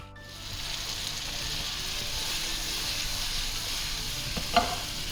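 Tandoori butter chicken sizzles and fries steadily in a pan, with a continuous bright hiss and occasional stirring scrapes, close and fairly loud, plus one sharp clink near the end.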